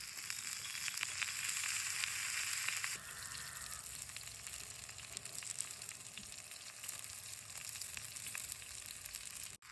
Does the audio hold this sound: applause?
no